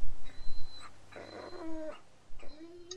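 An injured dog in The Walking Dead game whimpers and whines in short, high, wavering cries, a few faint plaintive bursts with muffled background noise between them.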